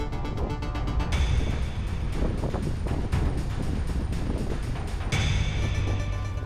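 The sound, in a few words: Pershing GTX 80 yacht sailing on calm sea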